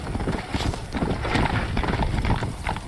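In Red Dead Redemption: Undead Nightmare, a horse's hooves clip-clop steadily over dense ambient game sound, with a neigh mixed into the busy, continuous scene.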